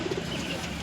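Pigeons coo at a crowded bird market, a steady, close murmur of soft throaty calls with no voices over it.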